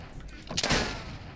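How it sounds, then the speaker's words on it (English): A gunshot goes off in a Minecraft zombie apocalypse game, a single sharp crack with a short ringing tail, loud and close against a quiet background. "Gunshots fired."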